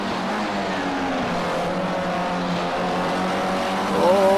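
Formula C race cars in a sim racing video game scream past at high revs. A steady, continuous engine drone with rising and falling pitch fills the whole stretch, and a second car briefly surges louder near the end.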